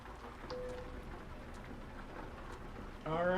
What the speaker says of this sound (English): I knew it was going to be raining